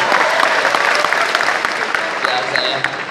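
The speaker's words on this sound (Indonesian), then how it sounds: "Tepuk tangan buat Pak Jokowi guys." Loud, dense applause from a crowd at a live concert performance in Aceh, steady throughout with some cheering mixed in near the end.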